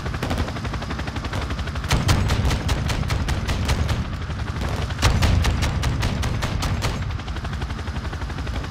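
Gunfire in Call of Duty: Modern Warfare II, loud rapid automatic bursts in two long volleys of sharp repeated cracks over a heavy rumbling background, no voices.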